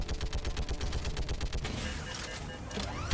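A mounted turret fires continuously in a video game, a dense, rhythmic hammering of rapid heavy shots that blurs into a roaring barrage with explosions, loud and close throughout.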